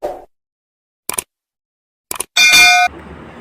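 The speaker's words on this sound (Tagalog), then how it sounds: "please subscribe and click the notification bell" A bright metallic ding rings out after two short clicks, its tone holding briefly before a soft hiss of background noise takes over.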